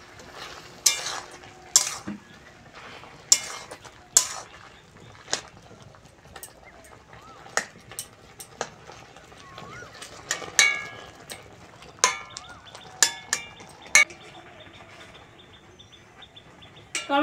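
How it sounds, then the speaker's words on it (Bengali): A spoon stirs tomatoes in a pot for tomato sauce, producing repeated sharp scraping clacks at irregular intervals over a soft simmering sizzle, close by, with faint bird chirps in the background. "একটু নেড়ে চেড়ে দেবো।"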